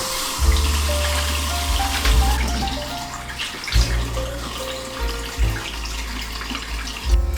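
Tap water runs into a bathroom sink during a nighttime face wash, flowing steadily with short breaks and restarts as hands splash and rinse, close to the microphone.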